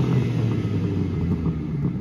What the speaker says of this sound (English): underneath the bonnet we have a 3-litre twin turbo straight six petrol engine